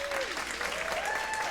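Steady applause from the audience at a middle school world percussion spring concert, a dense wash of clapping throughout.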